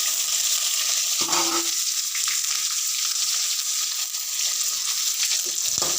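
Onions, green chillies and curry leaves sautéing in oil in a pan, a loud continuous sizzle broken by a few scraping stirs, close up with no talking.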